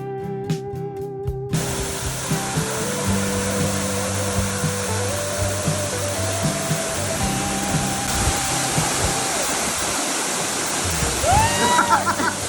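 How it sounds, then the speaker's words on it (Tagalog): Imogan Falls in San Nicolas, Pangasinan, Philippines, roars as a constant broad rush of falling water, with music tones at first and voices near the end. "narating na namin ang Imogan Falls"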